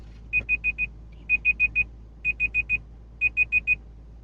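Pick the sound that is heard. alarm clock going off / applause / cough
alarm clock going off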